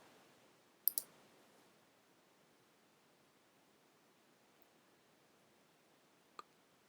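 A computer mouse clicks twice in quick succession, then once more several seconds later, sharp faint ticks over a quiet, hissy room with no talking.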